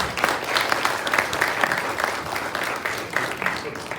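Audience applause welcoming a guest doctor at a heart health talk in a community hall, steady dense clapping from a crowd filling the whole stretch at moderate loudness, with a few voices mixed in.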